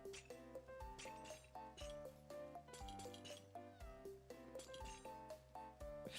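Cats in a Minecraft-style video game meow repeatedly over a looping game soundtrack, quiet and steady, with no talk.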